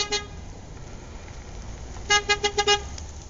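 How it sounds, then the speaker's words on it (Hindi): A car horn honks in a quick series of short blasts, sounding fairly near over faint road noise, after one brief earlier toot. "वो कार फिर से उनके पीछे से आई। फिर से बहुत तेज हॉर्न बजाने लगी।"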